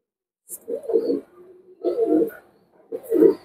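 Rampuri running pigeons in a loft give three clear, close, throaty coos in slow succession, separated by short silences.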